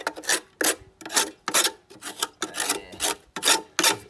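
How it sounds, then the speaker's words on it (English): A knife scrapes built-up grass off the deck of a Victa four-stroke mower in about eight rough, rhythmic strokes, close and distinct. "Probably a better tool than a big friggin' knife to take all this off"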